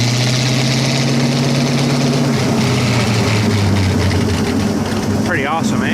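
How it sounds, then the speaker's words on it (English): The engine of Boaris, a vehicle in 4th gear low range, runs steadily at about 1200 RPM with a loud, constant low drone and vibration throughout, and a voice briefly joins near the end. "So that's 4th gear, low range. And it's only running just about 1200 RPM there."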